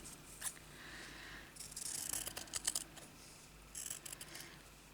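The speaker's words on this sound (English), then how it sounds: "And then I'm going to cut that out." Scissors snip through craft material in a few quiet, close cuts, with soft clicks and rustles between them.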